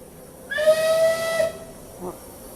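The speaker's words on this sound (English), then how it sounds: "That was a whistle blowing." A steam whistle blows one steady, loud shriek for about a second, then stops, leaving a low hiss in the background.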